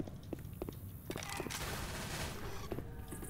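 Rapid bursts of gunfire in the zombie shooter Left 4 Dead 2 during the Parish campaign, a cluster of sharp shots followed by a sustained dense volley, fairly close and loud.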